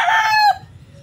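A fighting rooster crows loudly and close by, a short harmonic call that breaks off abruptly, followed by a quiet low rumble.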